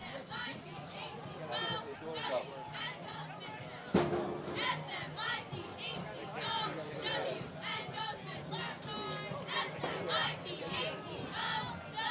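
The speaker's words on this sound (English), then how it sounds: "Smithtown cheerleading squad trying to boost the spirits of this crowd" A Smithtown cheerleading squad chants and cheers at a high school football game, rhythmic shouted calls over a murmuring crowd and nearby chatter, fairly distant and steady throughout.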